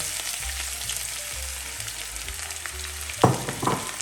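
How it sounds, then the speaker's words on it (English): Onions go into hot oil for chicken jalfrezi and fry with a steady sizzle and a low, bumpy scraping rumble. Near the end come a couple of sharper clatters as the pan is stirred. "We're going to get our onions into there."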